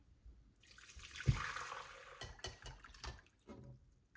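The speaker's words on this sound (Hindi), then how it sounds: "यखनी को छान लेते हैं।" Chicken stock for hot and sour soup being strained, with a brief splash and pour of liquid followed by scattered drips and light clinks, faint and close.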